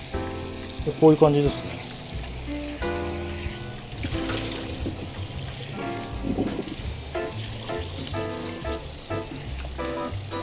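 Hot water splashes and trickles over sea bream at a kappo restaurant, a steady hiss and patter of running water under background music, with someone speaking briefly.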